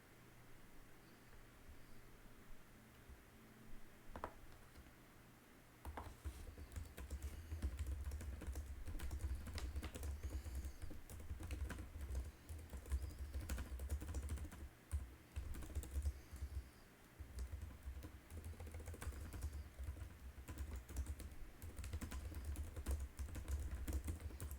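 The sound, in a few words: typing on a computer keyboard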